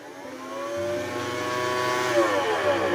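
A smart robot vacuum cleaner switching on and running, a motor whine that rises in pitch then holds as a steady tonal hum with a low drone beneath, close and continuous, without talking.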